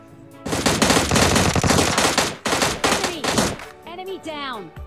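Rapid bursts of machine gun fire from a shooter video game, loud and dense for several seconds with brief gaps, ending in a whooshing sweep of game effects.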